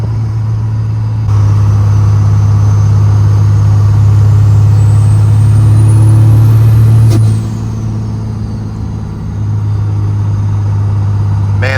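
A Cummins 24V diesel truck with an S400 turbo driving, a loud steady low engine drone with a rising and falling turbo whistle that peaks midway, heard from inside the cab.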